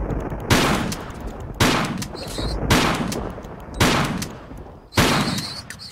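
Gunfire aimed at giant scorpions in Tomb Raider 4: five loud, close shots spaced about a second apart, each with a sharp crack and a short ringing tail, and no talk.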